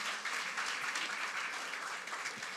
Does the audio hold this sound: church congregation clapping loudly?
yes